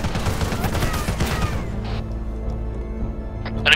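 Gunfire in an Arma 3 Halo-themed battle: a rapid, loud burst of repeated shots up close for over a second, then a quieter tail with scattered distant reports and a final crack.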